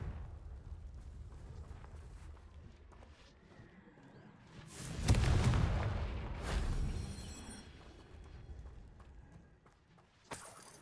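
A Confringo fire spell explodes in Hogwarts Legacy with a booming blast around the middle, followed by a rumbling tail and a second, smaller burst. A sharp crack comes near the end over quiet game ambience.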